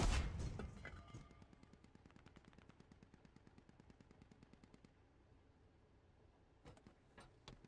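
Gunfire in the military shooter Squad, played in an armored vehicle: a steady rapid automatic burst of evenly spaced shots for several seconds after a loud opening blast, then a few isolated shots, fairly quiet overall.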